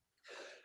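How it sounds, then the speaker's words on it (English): A single quick, breathy sneeze from a person troubled by ragweed allergies, heard alone and fairly quiet. "oh, I've got to sneeze."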